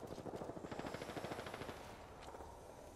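Rapid automatic gunfire in the Apex Legends video game, a faint, distant burst of evenly spaced shots that rattles for about two seconds and then trails off, with no voice over it.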